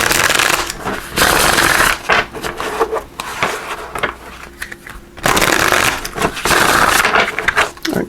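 A Tarot of Dreams deck shuffled by hand, loud riffling bursts of cards that come in several spurts with short pauses between them, close and on its own.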